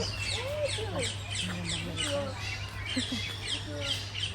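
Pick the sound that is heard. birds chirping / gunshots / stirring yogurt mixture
birds chirping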